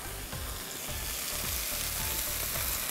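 Beef strips for crispy chili beef sizzle steadily in hot oil in a pan, a continuous close crackle with occasional stirring scrapes, no voices.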